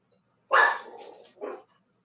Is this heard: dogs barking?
yes